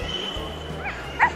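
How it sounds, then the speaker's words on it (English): A stray puppy in a video game gives a couple of short, high yips and a brief whimper, clear and close over a faint game background hum, with a voice talking nearby. "Wait, you are the stray puppy I found from next to Silver earlier."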